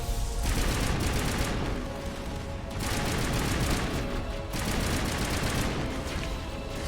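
Dense, sustained gunfire roars through the whole stretch in the video game Mass Effect, with heavy overlapping blasts that briefly dip twice before surging back, loud and close.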